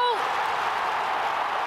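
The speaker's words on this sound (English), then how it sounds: "Listen to the crowd cheer!" A women's football stadium crowd in Turin roars after a home equaliser, a broad sustained cheer that holds steady throughout while a commentator talks over it.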